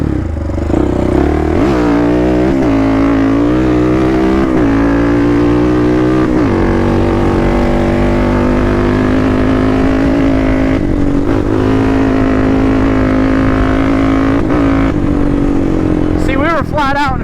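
Predator 560 quad running flat out in fifth gear, a loud, sustained engine drone that climbs in pitch and then holds steady at high revs, heard up close with a rider's voice over it.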